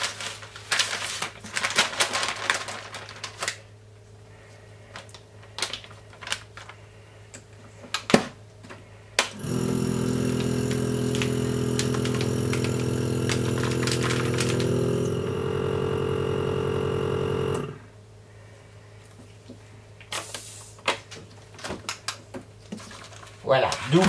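A vacuum sealer runs a double seal on a bag of meat for sous-vide cooking, its loud steady motor hum lasting several seconds in a kitchen between clattering handling noises.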